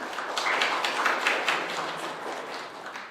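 Moderate applause from a forum audience at a social economy policy talk show, a scattered burst of clapping that swells briefly and then fades, somewhat distant and soft.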